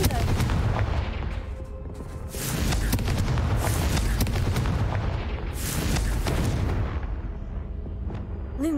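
Confringo fire spell blasts in the video game Hogwarts Legacy boom and crackle in a dense run of loud explosive bursts with rumbling tails, filling the whole stretch with no clear speech.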